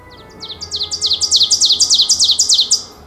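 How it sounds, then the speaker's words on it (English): Songbird in the North Woods singing a rapid trill of repeated high chirps that build in loudness and stop after about three seconds, close and clear over faint background. "The songbirds that have been gone for months return to brighten up the place with color"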